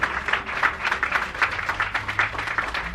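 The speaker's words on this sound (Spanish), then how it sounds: "Denle un aplauso al Señor Jesucristo" A church congregation applauds together, a dense, steady patter of many hands clapping at moderate loudness with no voices over it.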